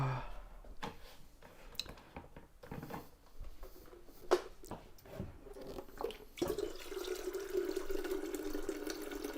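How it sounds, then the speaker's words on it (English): Hot water runs from a kitchen tap, starting as scattered splashes and clinks, then settling into a steady, close gushing stream for the last few seconds. "we've got hot water from the tap"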